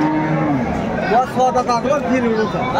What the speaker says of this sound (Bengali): দেখছিলাম এখানে সুন্দর সুন্দর মানের গাভী এবং বাছুর বেচা কিনা হচ্ছে